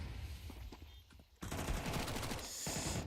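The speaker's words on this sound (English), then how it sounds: "As Maurice does find Quantumist, and then the MAC-10 finds one, doesn't find the second." MAC-10 submachine gun fire in a competitive Counter-Strike 2 match: quieter muffled pops for over a second, then a loud, dense rapid-fire burst that continues to the end.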